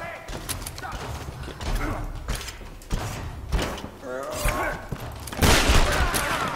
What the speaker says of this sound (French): Elle nous tire dessus.